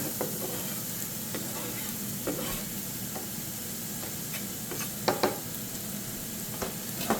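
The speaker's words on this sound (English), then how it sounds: "So we'll get all of our onions and garlic into the pan." Onions and garlic frying in a large pan for shrimp pasta, enough for four: a continuous close sizzle with scattered crackles and a few clicks of utensils against the pan, and no talk.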